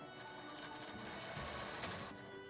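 A home sewing machine stitches a gauze and mesh face mask, giving a continuous close, rapid rattling whir of needle strokes at an even pace.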